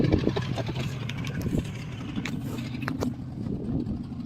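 An outboard motor runs on a boat, a low, steady engine hum near idle with faint clicks and knocks scattered over it.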